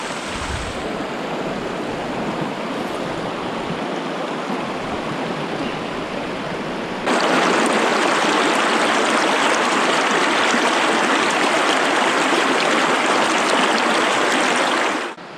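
A mountain river in the Carpathians rushes loudly and steadily close by, growing even stronger and brighter halfway through as the water churns on without pause.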